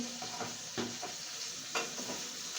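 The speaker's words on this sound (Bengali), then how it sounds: "তো এগুলাকে আমি এখন ভাজবো।" Chopped onion, garlic and chillies frying in a pan, a steady soft sizzle broken by a few brief stirring scrapes, close and moderately quiet with no talk.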